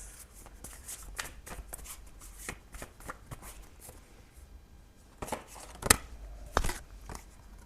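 Tarot cards are shuffled by hand in a quiet room, giving a run of soft papery riffles and flicks followed by a few sharper snaps as a card is drawn.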